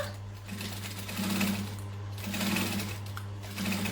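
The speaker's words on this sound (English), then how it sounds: "I'm just going to stitch with probably a 3/8 seam allowance all the way along here" Domestic sewing machine stitching a long seam along a bum bag, running steadily in several surges of motor whir and needle chatter, close and moderately loud with no talking.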